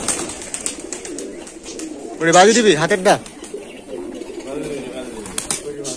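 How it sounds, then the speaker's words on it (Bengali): Pigeons coo in a loft of about 100 to 120 birds, soft throaty calls repeating close by, one louder burst in the middle, under someone talking. "আঙ্কেলের এখানে বহুত মানে 100 থেকে 120টা কবুতর আছে"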